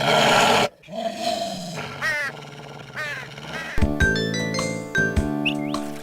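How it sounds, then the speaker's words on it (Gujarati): A cartoon dog growls and barks angrily at a cawing crow in a Gujarati kids' animation, with loud animal calls over background music and chiming tones, no speech. "એ કાગડા પર ભસવા લાગ્યો."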